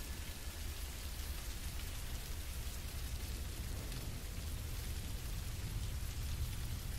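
Heavy rain pours steadily in a forest near a large cave, a dense continuous hiss of drops on surfaces with no breaks, no voices, and a faint low rumble underneath.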